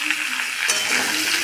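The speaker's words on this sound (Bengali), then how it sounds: "পেঁপেগুলো একটু নেড়ে দেবো।" Pieces of papaya frying in a pan with potatoes and being stirred, a dense close sizzle with light scraping, continuous and fairly loud throughout.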